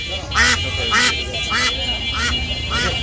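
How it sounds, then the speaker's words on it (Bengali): Ducks at a village livestock market quack in repeated loud calls, about five bursts over three seconds, with busy market chatter and voices underneath. "অনেক সুন্দর সুন্দর হাঁস।"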